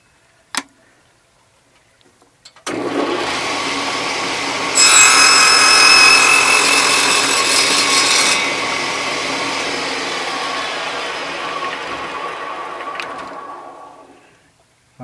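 A power saw cuts a slot into a small wooden piece for a bumble bee whirligig pick, starting after a brief tap, then running as a loud continuous whine with a brighter, harsher middle stretch before easing off near the end.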